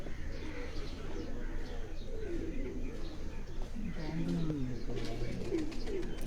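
Pigeons kept in a rooftop loft coo in soft repeated low burbling calls with scattered chirps, close and continuous over a busy ambient background, with people talking faintly nearby.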